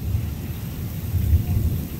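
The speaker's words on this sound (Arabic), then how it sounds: "أمطار غزيرة الآن في محافظة هروب قرية الجوف" Thunder rumbles low and continuous under steady heavy rain in Harub governorate, Al-Jawf village, with the rumble swelling briefly near the middle.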